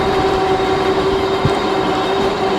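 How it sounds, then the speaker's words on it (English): A Tomofree MK100 electric scooter motor whines steadily under acceleration during a ride, a sustained tonal hum layered over constant rushing wind and road noise, close and fairly loud with no talking. "The motor is a little bit noisy once it's accelerating,"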